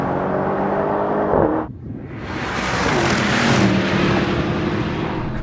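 A BMW M850i accelerates in a drag race, a loud, near engine roar that cuts out briefly for a gear change, then builds again into a rising, sustained rumble with wind noise.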